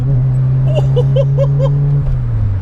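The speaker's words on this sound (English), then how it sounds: "We go for a little 2nd gear pull." A modified Citroen AX pulls hard in second gear, its engine drone loud and close with a steady rising tone that eases off near the end.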